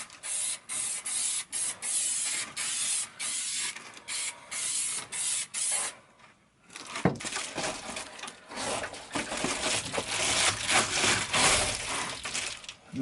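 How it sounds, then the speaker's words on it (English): Spray glue hisses onto foil-backed insulation in a van build, in repeated short bursts with brief pauses, followed by longer, rougher rustling and rubbing sounds up close. "I like this spray glue as well."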